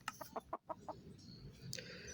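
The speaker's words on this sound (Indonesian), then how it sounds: "Anak ayam guys." A baby chicken in Minecraft Bedrock gives a quick run of short, high peeping chirps, then a fainter chirp near the end over a quiet game background.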